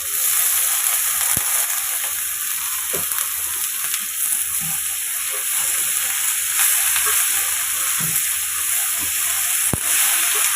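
Bitter gourd frying with softened onions in an oiled pan, a continuous loud sizzle with occasional stirring scrapes and clicks throughout.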